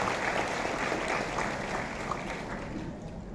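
Audience applause at a career guidance event for students, steady sustained clapping from a crowd that fades slightly toward the end, with no talk.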